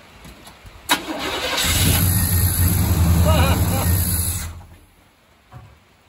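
Rebuilt engine of a 1977 GMC Sierra squarebody pickup cranking and catching. A sharp click leads into a loud, rising rumble that holds for a few seconds, then cuts off, with brief talk around it.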